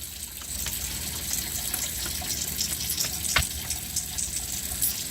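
Steady running water from a faucet as hands are rinsed, a continuous hissing rush with a brief louder splash partway through; no talking.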